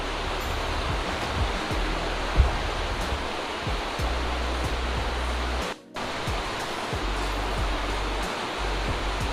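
A waterfall in a Himalayan jungle gives off a steady, dense rush of falling water. The roar holds evenly throughout and dips for a moment near the middle.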